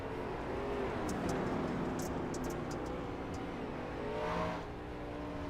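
Dirt track race car running the high line around Eldora, a steady engine roar with rising and falling revs as it swings wide through the turn, swelling near the end before easing off.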